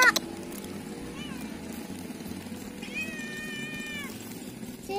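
A cat meows twice, a short call followed by a longer drawn-out one, nearby over a low background rumble.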